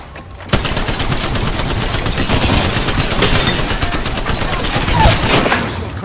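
Rapid automatic gunfire from an Apex Legends firefight, a loud sustained burst of closely spaced shots starting abruptly and continuing almost without pause, with faint game sounds underneath.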